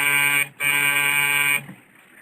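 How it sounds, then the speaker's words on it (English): Apartment door buzzer in a vintage radio drama: a loud, steady electric hum sounding in two long presses separated by a brief gap, then cutting off into quiet. "Then the buzzer to the Smiths' apartment hummed like an angry bee."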